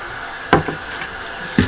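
Tap water runs steadily into a sink while parts from an Eheim 2213 canister aquarium filter are rinsed, a constant close hiss broken by two sharp knocks of the parts against the basin.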